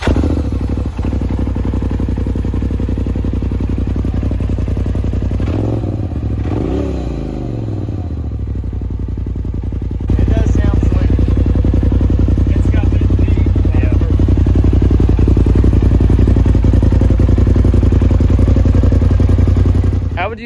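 Ford Mustang engine idling loud and close through a newly installed aftermarket exhaust, a steady low rumble that steps up in volume as it revs partway through, with voices nearby.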